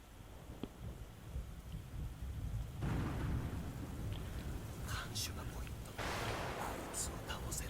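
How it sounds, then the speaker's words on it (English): Rain and thunder from the video game Furi, a steady broad wash of rainfall with low rumbling thunder swelling underneath, continuous and fairly loud, with brief sharper bursts toward the end. "I like how he just walks out into the rain."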